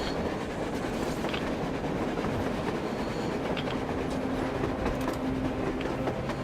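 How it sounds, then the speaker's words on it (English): A train rolls across the surface in the video game Metro Exodus, a loud, steady rumble with clattering rail noise and faint metallic squeals that continues unbroken throughout. "A train! A damn train on the surface!"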